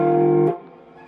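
Sustained electric guitar tone holding steady for about half a second, then abruptly cutting off into a faint, decaying ring; a single sloppy bend with no clear pitch movement.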